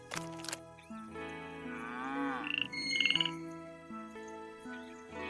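A frog croaks in the adventure game Milkmaid of the Milky Way, a few distinct rising calls heard close and clear over quiet game music.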